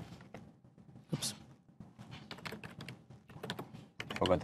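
Fast typing on a computer keyboard, close and fairly quiet, with irregular bursts of key clicks and a louder clatter near the end; no talking.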